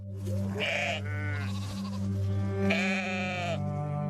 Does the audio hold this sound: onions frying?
no